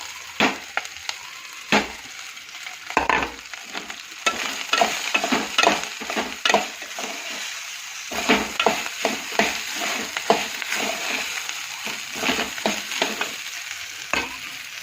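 Leftover cooked rice being stirred into fried onions in a pan, with repeated close scraping and clattering stirs over a continuous sizzle, no voices.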